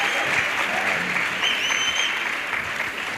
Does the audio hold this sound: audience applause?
yes